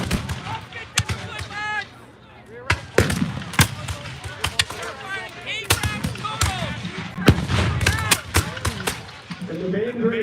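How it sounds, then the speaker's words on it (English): Musket volleys crack out at a Battle of Bunker Hill reenactment, with sharp irregular shots, some near and loud, others distant, over outdoor crowd noise with people talking. "they're getting random shots from behind from their own infantry"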